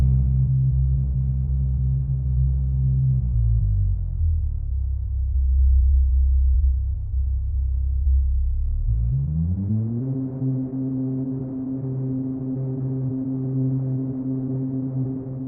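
Sustained synth chord tones on a Rample sampler glide smoothly down an octave, hold low for several seconds, then slide back up two octaves to a higher, brighter chord that holds steady.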